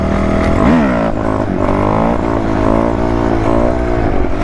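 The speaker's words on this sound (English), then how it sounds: "Hitting that back brake. I want to hear it." A dirt bike rides at night, its engine note rising and dipping as the rear brake is applied, a loud close drone with wavering pitch and no talk.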